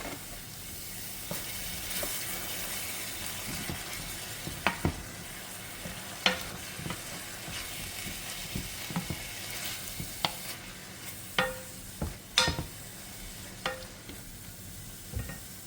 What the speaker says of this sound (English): I'm going to add a little bit of browning just to darken up the color a little bit. Mix it up.